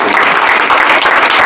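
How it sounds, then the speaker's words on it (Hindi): Dense, steady audience applause from a crowd at a Gopalganj singing event, sustained at even loudness throughout the short stretch with no clear pauses. "जोरदार ताली बजा दिया जाए"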